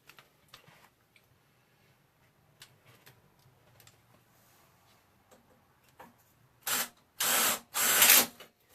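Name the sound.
self-tapping screws driven into aluminum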